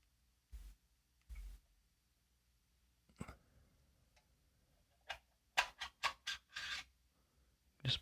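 Screws being unscrewed from the back plate of a guitar pedal, quiet scraping and ticking bursts spaced apart, then a quicker cluster of small rasping turns close up in a quiet room.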